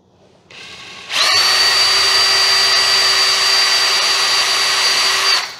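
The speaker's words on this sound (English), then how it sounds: "I may have to pre-drill these holes" A power drill with a 1/16 bit whirs up sharply pre-drilling holes, running at a steady high-pitched whine for several seconds, loud and close, then winds down.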